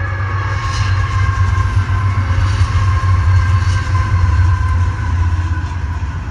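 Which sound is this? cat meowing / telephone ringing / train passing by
train passing by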